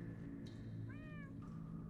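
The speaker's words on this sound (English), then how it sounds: "I just heard the cat." A cat meows once in the Minecraft Story Mode video game: a single clear, drawn-out meow set against a steady low ambient background, with no talking.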